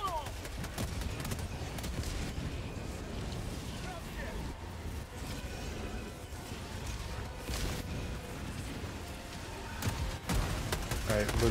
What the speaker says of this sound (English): Who fucking shooting lasers at me